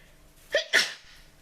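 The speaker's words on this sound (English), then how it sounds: "I think I'm going to sneeze" A person sneezes once, up close during a painting session, with a quick sharp intake followed immediately by a louder explosive burst, set against near silence.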